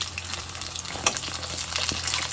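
Food frying in a pan over medium heat for a breakfast dish, giving a steady close sizzle with small pops and crackles. No one talks over it.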